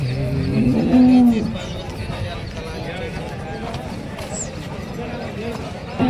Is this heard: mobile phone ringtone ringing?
no